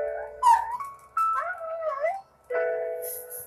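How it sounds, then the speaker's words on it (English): A cartoon puppy dog whimpers in a few high, wavering whines and yips, loud and close, with short gaps between the cries and no talking over them. "That's the puppy dog guys, bro."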